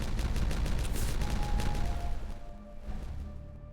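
Explosives blowing up structures in the video game Timberborn: a continuous, dense crackle of rapid blasts and debris rattling, loud and close, easing slightly toward the end.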